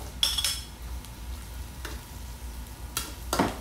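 Onion, garlic and ginger sautéing in a pan, with a soft sizzle and occasional stirring scrapes in short bursts at moderate distance.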